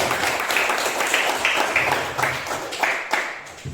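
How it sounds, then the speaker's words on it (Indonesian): A classroom of students claps their hands together, a short burst of scattered, moderately loud clapping that tapers off after a few seconds. "Mari kita tepuk tangan"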